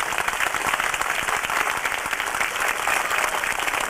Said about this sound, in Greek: Αυτή θέλουμε απόψε να χειροκροτήσουμε.